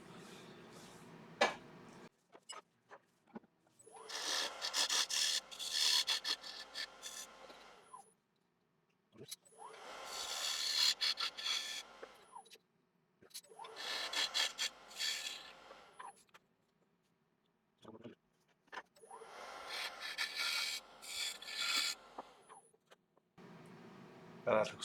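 A wooden candlestick spins on a woodturning lathe while a tool cuts a recess into it, several bursts of close scraping and cutting noise separated by quiet pauses.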